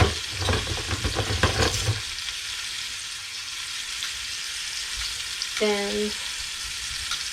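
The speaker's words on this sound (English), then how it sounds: "what I'm going to do is I'm going to sear it all the way around" Meat sears in butter and vegetable oil while cooking in an RV, a loud, dense sizzle with crackling bursts for the first two seconds, then a steadier hiss, with a brief spoken word.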